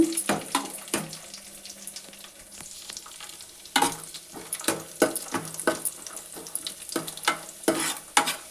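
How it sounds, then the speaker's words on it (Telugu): Dry fruits frying in ghee in a pan, a close, steady sizzle broken by repeated scraping stirs in an irregular rhythm, no voices. "డ్రై ఫ్రూట్స్ వేసి వేయించుకున్నాను"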